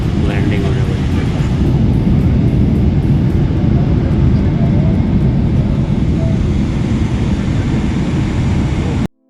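Cabin of an Emirates airliner landing at Jakarta airport, a loud steady roar of engines and rushing air that persists throughout and cuts off abruptly at the end, with talk faintly underneath.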